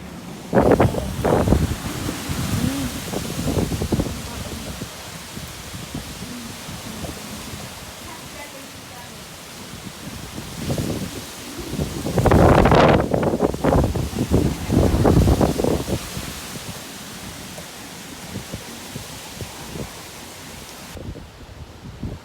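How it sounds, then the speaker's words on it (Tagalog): Strong wind roars steadily with broadband rushing noise, swelling in gusts, during Typhoon Pepito in Nueva Vizcaya, Philippines, with rain, while people talk intermittently over it. "sobrang lakas na talaga ng hangin, tapos ng ulan, kung naririnig mo yan"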